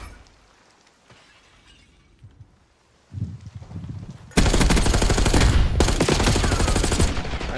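Gunfire in a Call of Duty competitive match, starting faint and sparse, then bursting into loud, sustained rapid automatic fire with crackling impacts that continue densely to the end.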